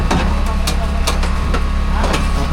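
A boat engine with water cooling runs steadily with a low, even rumble, over rhythmic knocking ticks.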